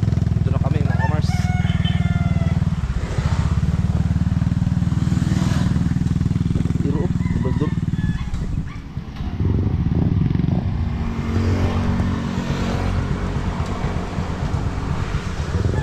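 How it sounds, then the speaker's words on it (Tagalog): A motorcycle engine rumbles steadily throughout, loud and close, with a rooster crowing in the background and people talking over it. "Parang yun yung motor ni Louie, oh."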